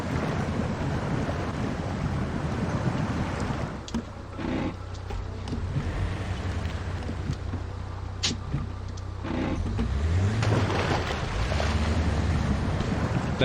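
Truck fording a swift, deep creek in Expeditions: A MudRunner Game, with steady rushing water and wash throughout, a low engine drone joining partway and rising near the end, loud and continuous with no talk.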